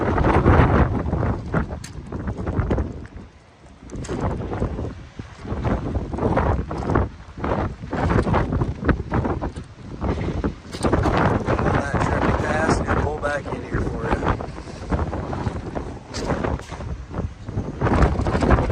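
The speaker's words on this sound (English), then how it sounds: "It is a very windy day, guys." Heavy gusting wind buffets a microphone outdoors beside a 2021 Peterbilt 389 truck, with loud, rumbling, uneven roars throughout, and a person talks underneath the noise.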